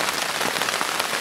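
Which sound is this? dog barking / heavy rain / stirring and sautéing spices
heavy rain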